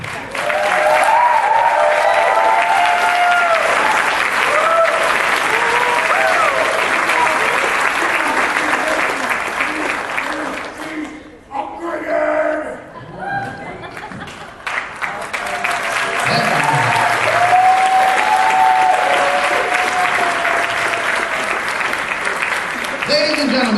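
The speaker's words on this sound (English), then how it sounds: "Toby Thomas, round of applause" A fan convention audience at a costume contest claps loudly and continuously, briefly thinning partway through before swelling again, with voices and cheers mixed into the crowd noise.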